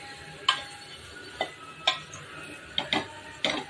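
Grated coconut roasts in a pan for mutton curry, with a faint sizzle beneath. A spatula knocks and scrapes against the pan about six times at an uneven pace, close by.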